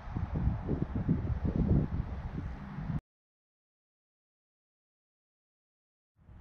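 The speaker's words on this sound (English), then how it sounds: "So right now it is windy," Wind blowing outdoors buffets the microphone for about three seconds as a loud, steady rumble, then cuts to silence, with a brief burst returning at the very end.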